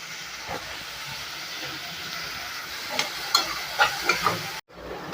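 Onions and curry leaves sautéing in a pan for a brinjal and black chickpea kulambu, a steady frying hiss with scattered crackles and a few stirring scrapes near the end, no voices.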